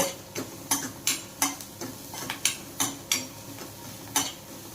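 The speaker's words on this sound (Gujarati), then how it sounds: "હવે આને બરાબર આપણે હલાવી લઈએ। દાળ બ્રાઉન કલરની થાય ત્યાં સુધી આપણે હલાવવાનું છે।" Urad dal, chana dal and hing being stirred in a hot pan until browned, with a spoon scraping in irregular bursts over a soft, steady sizzle of frying.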